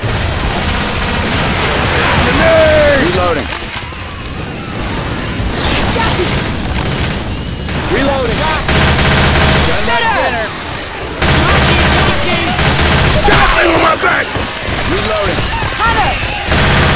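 Incendiary-round gunfire in Left 4 Dead 2, loud bursts of shots and booms running continuously with game voices and a speaker talking over the action.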